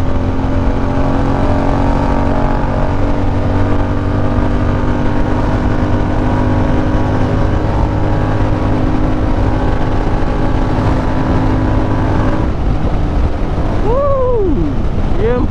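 A GT motorcycle engine accelerating hard, a loud steady drone dominated by rushing wind noise throughout, with a rising whine toward the end as the bike picks up speed.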